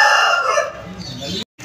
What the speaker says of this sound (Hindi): इधर मुर्गा आ गया